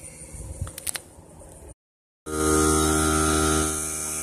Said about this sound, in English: Compressor's going. Hooked up to a battery jump pack.